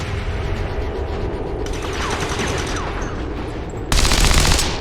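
Rapid bursts of automatic gunfire in XCOM 2: War of the Chosen rattle continuously throughout, growing louder and denser near the end, with no talking.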